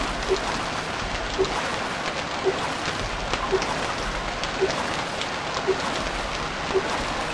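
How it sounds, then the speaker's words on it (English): Steady rain pours down in the Stranded Deep survival game, a dense broadband hiss with faint regular ticks from droplets, holding evenly throughout with no voices. "Ah, the rain starts."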